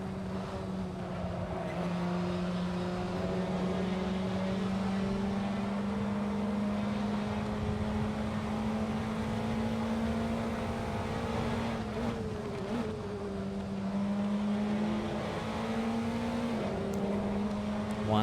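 A Praga race car engine in Assetto Corsa drones steadily at high revs at Donington, one sustained close tone that dips briefly for gear changes or braking before holding again.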